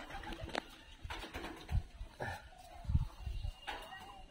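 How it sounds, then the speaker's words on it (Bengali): Pigeons in a backyard loft give soft, low cooing calls that come in short bursts. A few coos stand out near 2 and 3 seconds, and faint voices can be heard in the background. "কবুতরের বাচ্চা"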